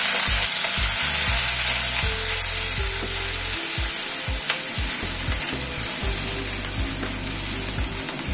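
Onion paste fries in hot oil with cracked tempering spices in a pan, a constant bright sizzle while a spoon stirs and scrapes in irregular knocks and drags, with no talking.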